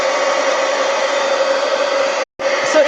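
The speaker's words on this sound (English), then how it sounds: "Heat gun." A heat gun blasts steadily while drying paint on a stencil, a loud continuous roaring hiss that cuts out for a split second near the end and then resumes.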